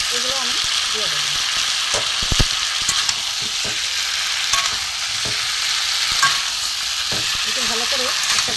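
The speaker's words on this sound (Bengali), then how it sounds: "একটু ভালো করে একসাথে কষিয়ে নেবো মশলার সাথে, আলুর সাথে।" Boiled small potatoes and green peas being stir-fried with spices in a pan, a steady loud sizzle with scraping spatula strokes throughout, and a faint voice in the background.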